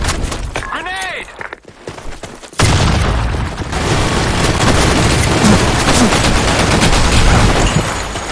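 Loud, dense rattle of video-game gunfire and a grenade blast fills the scene, continuous and close after an opening shouted voice line and a brief lull.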